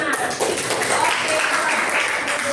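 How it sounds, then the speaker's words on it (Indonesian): A ninth-grade class claps for group 5 in an Indonesian lesson, a noisy spread of clapping and chatter from many students filling the room without pause. "Beri tepuk tangan untuk kelompok 5."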